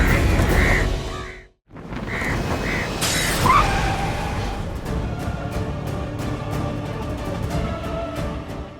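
A crow hits something in a Hindi TV drama scene: a few caws, a brief hush, then a sudden sharp crash followed by a busy dramatic backing.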